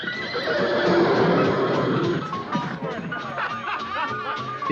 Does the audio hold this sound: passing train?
no